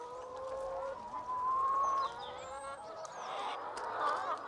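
Free-range chickens on a farm shared with alpacas, with fowl calls and rooster-like vocalizations drifting over a continuous outdoor background, several birds sounding at moderate distance with occasional louder bursts.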